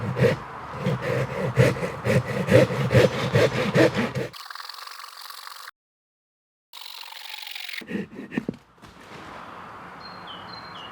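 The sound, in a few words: folding saw cutting wood stump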